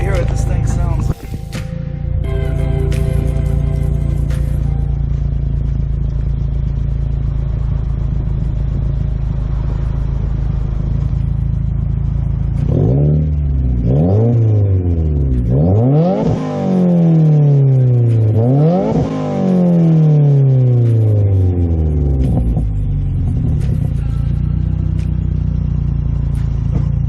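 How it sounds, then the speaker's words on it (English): A 2017+ Subaru WRX with a new downpipe and aftermarket catback idles with a deep burble, then revs repeatedly in a series of sharp rising and falling throttle blips before settling back to idle, close and loud. "get this in a few revs so you guys can"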